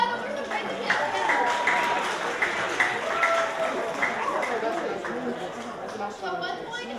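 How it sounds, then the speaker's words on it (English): Audience applause at a live improv comedy sports match breaks out, steady clapping and cheering from the crowd mixed with a host's voice talking over it throughout. "Give yourself a round of applause for some crazy kids."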